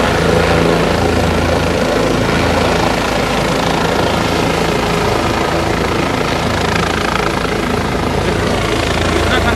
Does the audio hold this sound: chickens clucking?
no